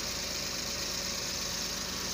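A Suzuki DA63T Multicab engine idles smoothly and steadily at close range, a constant even hum with faint regular pulsing and no talking.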